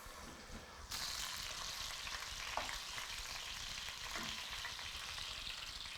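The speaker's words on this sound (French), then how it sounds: "l'huile est chaude. Et allez, on va faire revenir notre morceau sur chaque côté." Pork ribs searing in hot oil in a pan, a steady loud sizzle and crackle that starts abruptly about a second in and carries on unbroken, with occasional faint stirring clicks.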